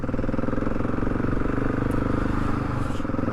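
A motorcycle engine pulls steadily at slow speed with a low, continuous rumble and some mechanical clatter, close and loud throughout.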